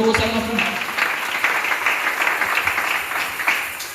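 A church congregation applauds and acclaims the Lord during a sermon, a steady wash of clapping at moderate volume with voices mixed in.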